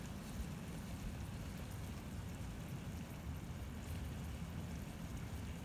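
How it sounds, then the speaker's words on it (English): Wind rushes steadily through a high wooded area, a broad, even roar with no gusts or breaks, continuous and fairly faint with no voices. "Now we're up high, so we're in a little bit of a windier area"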